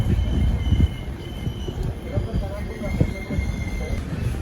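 A passenger train on the Kolhapur to Kadapa route rolls through Khanapur station with a steady rumble, wheel clatter and faint squeals heard from inside the carriage, while a person talks.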